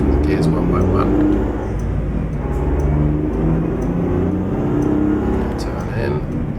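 Mack R truck engine in American Truck Simulator, hauling logging equipment, droning and revving up through the gears one by one, a steady low rumble that swells and dips with each shift, continuous and close, with some faint background sound.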